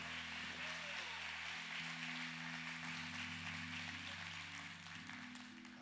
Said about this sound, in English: Y'all give Granddaddy a hand clap